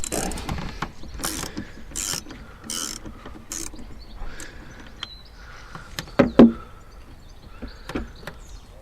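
Socket ratchet loosening the 10mm nut on the negative battery post of a Volvo V70/S60/S80 2.0T–2.5T turbo, a few close mechanical clicks and knocks scattered among quiet workshop handling noises.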